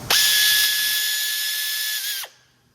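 A power driver with a T30 Torx bit spins out a transmission pan bolt on a 2005-2013 Jeep Grand Cherokee, one steady high whir lasting about two seconds before winding down, close and alone.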